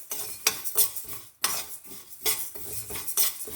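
Black half-broken urad dal and sesame seeds being dry-roasted in a pan, with a spoon scraping and stirring in repeated sharp clinks and rattles, close and fairly loud, with no talking.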